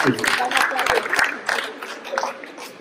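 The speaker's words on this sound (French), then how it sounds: "Ben, merci beaucoup, on vous applaudit" Guests at a welcome reception for new residents in Pleucadeuc clap in a short burst of scattered, close applause, with people talking over it.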